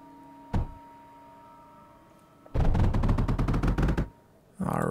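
Salvo turrets in the video game Mindustry firing: a single sharp shot, then a rapid volley of bursts for about a second and a half, and another burst starting at the end, over a low steady hum.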